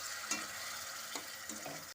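Chili mushroom sauce being stirred in a hot pan after sauce-mixed water is poured in, a steady sizzle and frying hiss with a few scraping strokes of the spoon, close and continuous with no talk.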